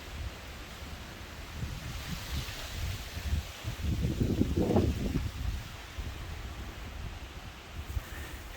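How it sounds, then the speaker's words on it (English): Wind blows on a cold, breezy day along a thru-hiking trail, a soft rushing noise that swells into a stronger gust midway, then settles back to a low, steady breeze. "It's breezy today"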